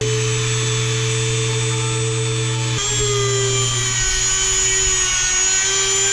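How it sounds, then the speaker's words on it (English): A Dremel rotary tool whines steadily at high speed, its pitch dipping briefly as it drills into a small wooden popper lure, loud and close throughout. "I'm gonna go ahead and drill out the popper section of the lure with my Dremel"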